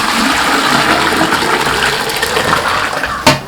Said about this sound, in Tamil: இறக்கி இந்த பாத்திரத்தில் ஊற்றிடலாம்.